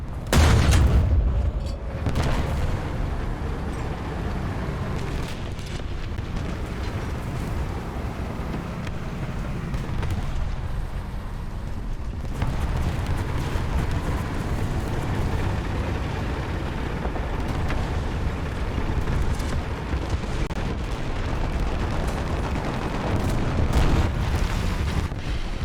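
Bombs exploding in War Thunder during a tank battle, heavy low booms and rumbling blasts rolling under a constant roar of engine and battle noise, with a sharp heavy burst near the start.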